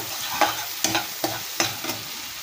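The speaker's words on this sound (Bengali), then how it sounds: "পেঁয়াজগুলো আমি খুব ভালোভাবে নেড়ে চেড়ে একটু ভাজা ভাজা করে নিচ্ছি।" Onions stirred and fried in a pan, with a steady sizzle broken by four or five sharp scraping strokes of the spoon at a regular pace, close and clear, no talking.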